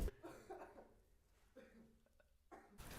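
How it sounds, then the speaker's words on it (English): A faint, odd cough sounds in the background of an abandoned old school, a couple of brief rough bursts amid quiet room noise, with a louder thump at the end. "there was a very weird coughing noise in the background."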